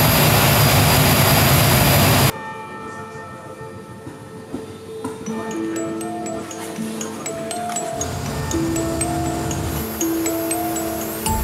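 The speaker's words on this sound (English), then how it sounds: "5 hours on this crazy, noisy, huge American Air Force C-17" A US Air Force C-17 drones with a loud, broad jet roar in flight, then the sound turns to a quieter, steady cabin rumble with faint beeps and tones layered over it.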